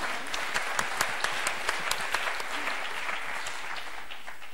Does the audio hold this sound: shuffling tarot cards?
no